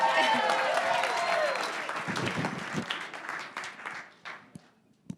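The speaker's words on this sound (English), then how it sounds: "Guys, you are like the least applauding team ever. Applaud!" Audience applause at a startup presentation event, a dense burst of clapping that starts loud and thins into scattered claps before fading out, with a voice briefly audible over it.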